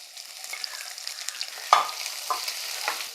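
Dried red chillies, crushed unpeeled garlic and shallots hit hot oil with a quiet crackling sizzle, marked by sharp pops and stirring scrapes, close by.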